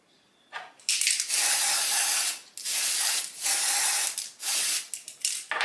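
Several sharp hissing bursts from a spray bottle onto the inside of a synthetic wig's lace, close up, each lasting about a second with short pauses between, and no talking.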